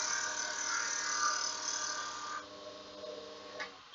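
A wood lathe spins steadily while a skew chisel takes a planing cut, giving a close, continuous whirring hum with a bright cutting hiss that drops off about halfway as the cut ends, followed by a few light knocks.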